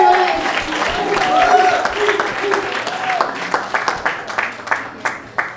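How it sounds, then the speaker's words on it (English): Audience at a foundation fundraiser in Los Angeles claps for a speaker as she comes up, under a speaking voice at first. The clapping thins out into a few scattered, distinct claps near the end. "Give her a round of applause."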